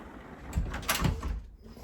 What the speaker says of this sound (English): And I opened my door that time